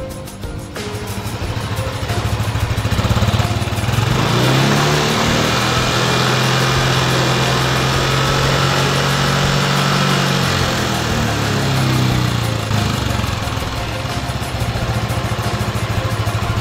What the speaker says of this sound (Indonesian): Kita matikan motornya.